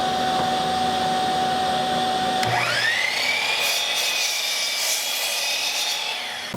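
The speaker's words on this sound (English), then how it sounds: "on my bandsaw, I have the fence set up to make a cut here" Bandsaw running with its fence set, a steady whine that drops in pitch as the blade bites into wooden fence pieces, then a loud continuous cutting roar close by.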